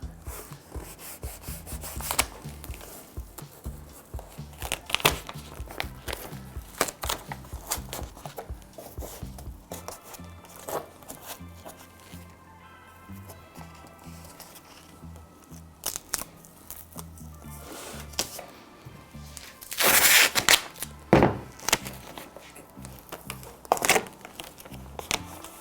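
Adhesive tape pulled and pressed onto the corner of a shadow box for artwork, heard as soft rubbing, crinkling and tearing handling noises close up, with a louder ripping burst partway through.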